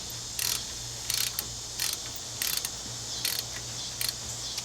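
A hand ratchet snugs up brake caliper bolts on a Nissan Frontier during a front disc brake job, giving about seven short, evenly spaced bursts of clicking over a low steady hum, with no talking.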